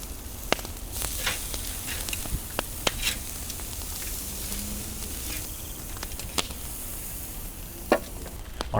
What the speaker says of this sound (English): Saute some onions